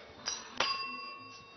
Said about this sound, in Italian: dammi il campanello, va.